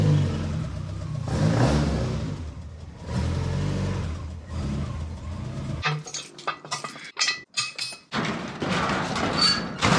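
A Mk1 Escort rolling along with a low engine rumble for the first half, followed by sharper clanks and metallic clatter as the car is brought into a garage.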